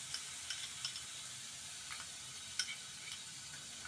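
Spice paste for stuffed pointed gourd frying in hot oil, a faint, steady sizzle with a few soft ticks and pops near the pan.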